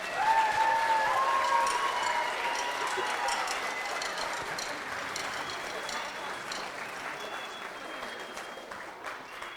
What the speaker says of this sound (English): Can we give them a huge round of applause